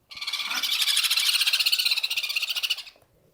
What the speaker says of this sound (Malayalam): ഒരു പക്ഷിവർഗമാണ് ജെൻഡേ കുനൂറ്